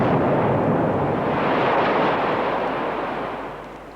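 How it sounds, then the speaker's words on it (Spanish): Elser's bomb in the Bürgerbräukeller, Munich, goes off as a deep, loud, broad explosion roar that rumbles on and slowly fades over a few seconds. "explota la bomba de Elser"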